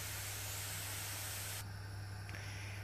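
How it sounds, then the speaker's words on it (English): A constant broadband hiss of food sizzling in a dry, hot frying pan, steady throughout with a low hum underneath and no talking. "it's starting to make this sizzling sound"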